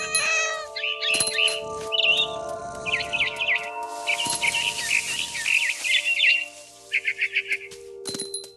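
A cat in the game What Remains of Edith Finch meows repeatedly in short, bright calls over several seconds, with birdlike chirps and a sustained tonal background hum, close and clear without speech.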